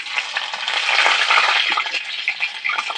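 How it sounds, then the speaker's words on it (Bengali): Black cumin seeds and chopped green chilli sizzle in hot oil for a spicy coconut-flavoured aila fish dish, producing a loud, continuous, close crackling fry with light stirring throughout. "তেলের মধ্যে সামান্য পরিমাণে কালো জিরা দিয়ে দেবো। কাঁচা লঙ্কা কুচি দিয়ে দেবো।"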